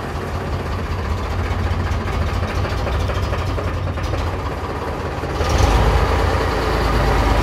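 A tractor with a high-low-medium side-shift gearbox, parked at a tractor market in Shamli, idles with a steady low rumble that grows slightly louder near the end, with no voices over it.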